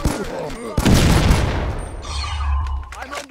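Mobile battle royale game gunfire: a sharp burst of rapid shots and a boom, then continued firing under a low rumble, loud and close, with a voice heard early on.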